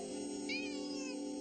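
A cartoon cat named Scat Cat gives a single drawn-out, wavering meow over a steady droning musical background, fairly close and clear.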